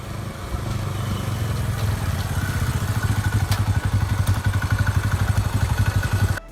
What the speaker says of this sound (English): 1975 Honda CB 500T, a motorcycle so unrefined that even Honda might not want to remember it